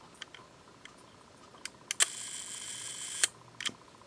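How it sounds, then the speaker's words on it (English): A 35mm folding camera's shutter runs with a steady buzzing whir for about a second, bracketed by sharp clicks as it opens and closes, with faint small ticks before and after in a quiet room. "you should hear a smooth, continuous buzzing sound, and the shutter should open and close"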